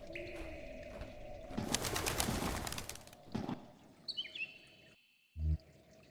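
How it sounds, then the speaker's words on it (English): A disturbed bird in the VR Colossal Cave game gives cooing and chirping calls over a hum, then a burst of fluttery noise, high descending tones and a short low thump at the end. "The bird was unafraid when you entered, but as you approach, it becomes disturbed."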